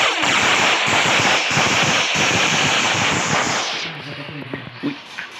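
Rapid gunfire crackles continuously in a Minecraft shooting game, dense and loud for several seconds before dropping away as players talk.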